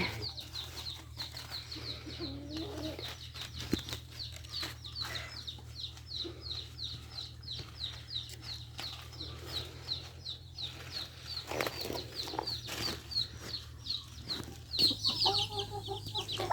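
Chickens cluck and chatter on a Thai family farm, a steady stream of small repeated calls over a low constant hum, with a few louder squawks near the end.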